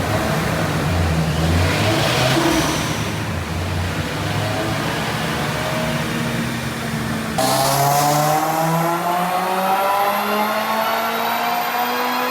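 A Toyota GR86 fitted with an HKS turbo kit runs hard on a dyno, its engine note climbing steadily through a long, loud pull, easing briefly, then rising again in a second sweep, with no talking over it.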